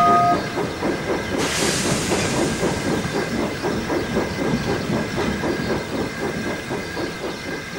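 The Flying Scotsman steam locomotive runs with a loud, steady hiss of steam over rhythmic chuffing and clickety-clack rail noise, a sharp burst of escaping steam joining in early on and the whole sound staying close and continuous.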